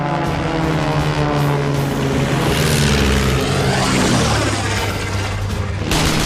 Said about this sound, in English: closely pursued by a silvery blue German triplane at very close range